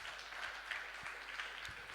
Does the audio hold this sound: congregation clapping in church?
yes